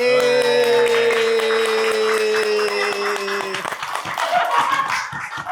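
A studio audience claps for a guest arriving, sustained brisk hand clapping under a held musical chord that drops away, leaving louder scattered claps and voices at the end.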